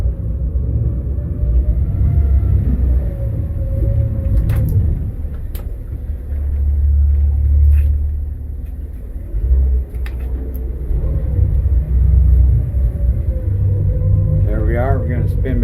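Outboard motors on a 2020 Hewes 2500 Alaskan boat, a steady low rumble that rises and falls as the port throttle is worked, running continuously under someone talking throughout.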